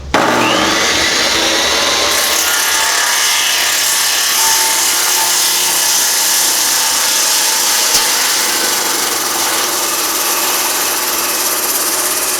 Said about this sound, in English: This saw does not mess around.